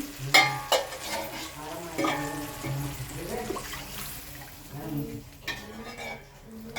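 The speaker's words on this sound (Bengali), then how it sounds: "এই গিলাসে 2 গ্লাস পানি দিয়ে দেবো আমি" Water is poured into fried masala in a pan while prawn malai curry is being cooked, bringing splashing, stirring and sizzling with a few clinks of utensils at moderate volume.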